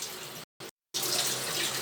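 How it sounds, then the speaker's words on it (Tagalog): Water runs from a tap into a sink for washing, a steady close hiss that cuts out briefly twice and then resumes at full strength. "Tubig na to. Wait lang, hugas muna ako."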